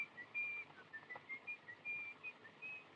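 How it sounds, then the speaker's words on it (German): A man whistles a tune in a tense street scene from the 1931 film M, set in Düsseldorf. The melody comes as a thin run of separate notes, moderately near, over a faint low rumble of background noise. "da pfeift doch einer"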